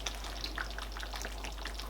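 A pot of Nigerian egusi soup with spinach is stirred gently, a soft continuous bubbling crackle with light scattered ticks over a low steady hum, no voices.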